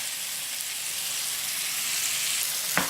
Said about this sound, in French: je continue à faire cuire les pommes, leur donner comme ça une jolie couleur